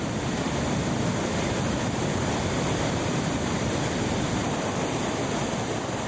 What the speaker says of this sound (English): From the plateaus above, the water comes crashing down and rushes headlong towards the plains.